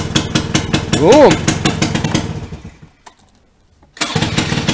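A small engine starts up after a carburetor repair, running with a rough sputtering rev alongside a voice, then dying away to near silence before the engine noise resumes.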